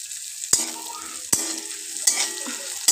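Spices with a little salt and turmeric stirred and frying in a pan for egg korma, with four sharp scraping strokes of a spoon over a steady sizzle, close and fairly quiet.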